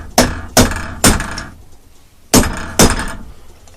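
A hammer strikes a muffler in five loud metallic blows, three in quick succession, then a pause and two more, each ringing briefly before dying away.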